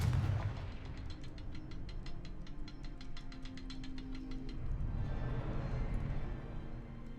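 Confringo fire spell cast in Hogwarts Legacy, a booming magical blast followed by a crackling, rumbling tail that lingers for several seconds at moderate loudness, with no speech.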